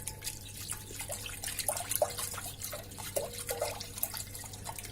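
A milk and water mixture for broccoli soup is poured into a pot, making a soft, continuous trickling and splashing close by under a low background hum.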